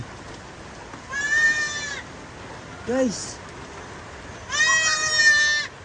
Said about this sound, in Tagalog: Nanganak yung ating kambing.